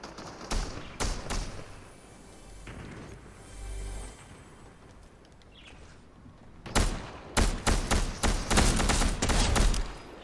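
Bursts of video-game gunfire crackle in rapid volleys, with a cluster near the start and a longer, louder run of shots toward the end, separated by quieter stretches.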